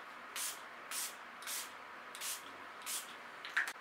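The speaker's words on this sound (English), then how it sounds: "I'm gonna use the Catrice Prime and Fine Illuminating setting spray" A bottle of Catrice Prime and Fine Illuminating setting spray hisses in five short, evenly spaced pumps, close and fairly soft against a quiet room.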